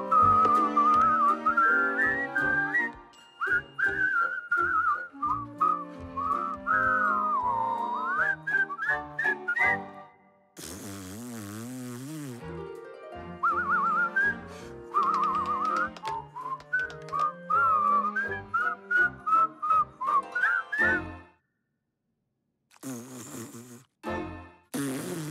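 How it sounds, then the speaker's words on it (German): Cartoon characters whistle melodic tones to each other to communicate, warbling phrases in a steady rhythm with brief pauses. A short buzzing, fluttering interlude comes midway, and the whistling stays loud and close throughout. "Aber wie könnt ihr euch mit Pfeiftönen unterhalten?"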